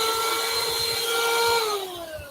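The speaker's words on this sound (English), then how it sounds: "This is a good little vacuum cleaner." A small handheld car vacuum cleaner runs close and steady with a high whine, its pitch sliding down near the end as the motor winds off.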